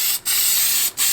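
An aerosol spray can hisses loudly and close while painting car wheels, a continuous spray broken by two short pauses as the nozzle is released.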